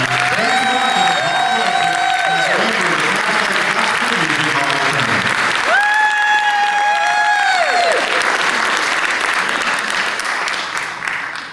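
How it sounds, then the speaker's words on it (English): Steady applause from a crowd at a gospel music hall of fame induction ceremony fills the room throughout, with a sustained organ or keyboard chord swelling beneath it and fading near the end. "Y'all give them another hand."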